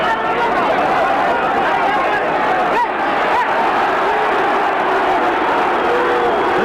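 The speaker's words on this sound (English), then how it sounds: "Now the crowd is really getting on Toledo." Crowd noise at the 1980 US-Cuba amateur boxing duals, featherweight bout, a constant loud arena roar of voices and jeers with a commentator talking over it.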